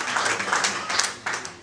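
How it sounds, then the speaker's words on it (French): Audience applause at a 2018 investors' colloquium, a short burst of dense clapping from a seated crowd lasting under two seconds, steady and fairly close. "Je propose qu'on puisse encore applaudir pour les organismes financiers."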